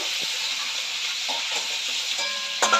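Prawns for a cream malaikari fry in a pan with a steady, loud hiss of hot oil, broken by a few soft clinks and scrapes of a utensil.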